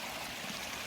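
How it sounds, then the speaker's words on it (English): A small creek on the Ozark Highlands Trail flows steadily as a hiker crosses it, a continuous, fairly quiet wash of trickling water with no talk. "And I'm crossing a little creek here."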